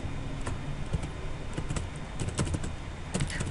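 Quick bursts of keystrokes on a computer keyboard while a username and password are entered, clicky taps in uneven clusters with short pauses, close and clear, no voices.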